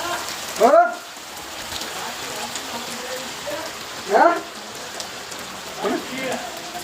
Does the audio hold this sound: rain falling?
yes